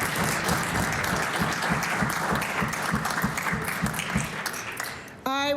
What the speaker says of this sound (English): give a round of applause for these young women